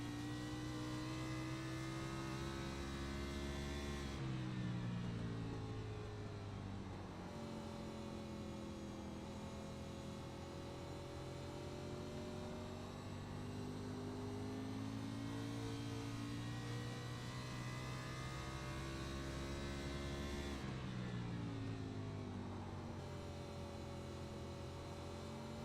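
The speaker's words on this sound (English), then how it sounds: "You hear these drivers doing the best they can to manage the use of the throttle, trying not to spin those rear tires" A race car engine on throttle in an oval racing video game at New Hampshire, riding on board the 96 car. The engine drones steadily and fairly quietly, its pitch dipping and climbing as the throttle eases and builds.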